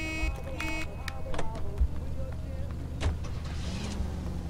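A car idles and moves in a video game, its low engine hum running under scattered electronic beeps, clicks and chimes, with a voice talking over parts of it.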